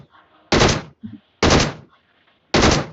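Gunfire in the mobile shooter game BGMI: three loud bursts of rapid automatic fire, each about a third of a second long, separated by short quiet gaps with faint background game noise.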